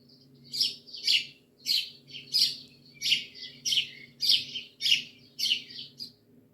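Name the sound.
sparrow chirping, answer to a children's riddle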